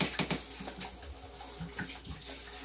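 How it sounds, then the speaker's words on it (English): About two cups of vinegar poured into a washing machine tub, a close, steady splashing trickle of liquid lasting a few seconds. "I'm going to pour about 2 cups of vinegar into the tub."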